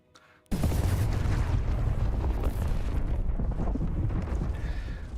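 A huge explosion in the space sandbox game Space Engineers 2 bursts in abruptly after a quiet moment, then roars as a loud, sustained rumble that slowly tapers over several seconds.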